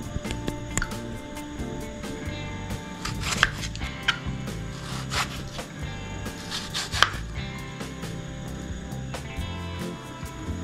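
Four washed tomatoes being cut on a board: sharp knife chops land in an uneven rhythm, close and fairly crisp, over steady background music with no voices.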